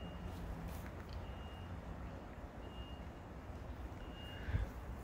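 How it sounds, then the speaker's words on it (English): Construction equipment near a quiet park sounding a faint, steady reversing beep over broad low machinery rumble, with no talking. "that beeping is getting really annoying"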